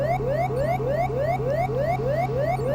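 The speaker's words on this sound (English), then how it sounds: "Now when it hits 300, it's going to put off an alarm." A steady repeating electronic alarm tone chirps in rapid rising sweeps over a constant hum, sounding from an Airbus A300 cockpit in a flight simulator game as the aircraft descends toward the ground.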